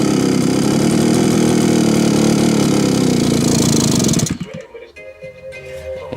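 An old strimmer's small two-stroke engine idling loudly and steadily at low tick over for about four seconds, then cutting out abruptly, leaving quieter ambient noise.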